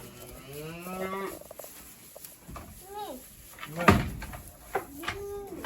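Milk cow and her young heifer calf mooing on a farm, several drawn-out lowing calls at moderate distance with a sharp knock or clatter midway and faint background movement.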